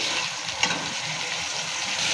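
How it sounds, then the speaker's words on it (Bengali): Ginger-garlic spice paste with salt frying in hot oil in a home kitchen pan, a steady close sizzle throughout with a soft stirring scrape partway through. "মশলাটা একটু ভাজা ভাজা করব"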